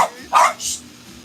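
A small dog barks in a pottery wheel-throwing studio, two quick, loud, sharp yips close by with no talking over them.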